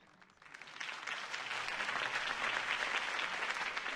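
A crowd claps after a campaign speech for Harvey Dent. The applause swells within the first second into a steady, dense roar of many hands that holds at full strength.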